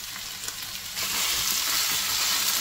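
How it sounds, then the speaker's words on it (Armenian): Eggplant fries in a pan with a constant close sizzle of hot oil, growing louder and fuller partway through as more pieces hit the pan, with no talking. "Այստեղ սմբուկներն են տապակվում։"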